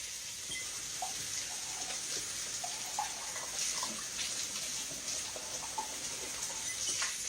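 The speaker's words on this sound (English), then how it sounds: "Let me rinse it out." Tap water runs steadily into a sink as a cup is rinsed, a constant close hiss of flowing water with light splashes and no talking.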